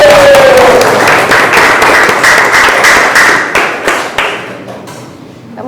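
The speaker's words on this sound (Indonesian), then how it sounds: "Oke, tepuk tangan untuk kita semua." A classroom of students breaking into loud, dense clapping that keeps up for several seconds, close and crowded, then tails off toward the end.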